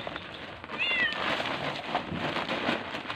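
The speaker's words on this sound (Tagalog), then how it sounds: "Pusa pa sa taas." A cat gives a single short meow amid a steady hiss of rain or background noise, faint and somewhat distant.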